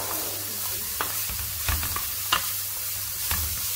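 Paella ingredients sizzle steadily in a frying pan over high heat, broken by a few sharp scrapes and knocks from stirring, close and moderately loud, with no voices.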